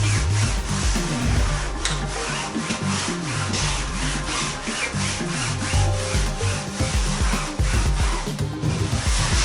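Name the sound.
sponge rubbing canvas filler into wooden canoe canvas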